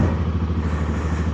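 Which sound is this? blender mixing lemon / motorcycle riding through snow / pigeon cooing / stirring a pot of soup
motorcycle riding through snow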